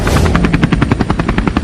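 A helicopter starts up in a cartoon, its rotor thumping in a quick, steady, loud beat that runs throughout with no talk.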